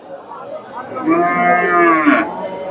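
A cow at a Hasokhali cattle market gives one long, loud, close moo lasting most of the clip, rising and falling in pitch before trailing off, with faint background chatter.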